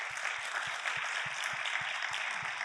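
Audience applause for cancer center faculty introduced on stage, a dense, steady wash of many hands clapping at moderate volume with a faint rhythmic low thump underneath, no voices.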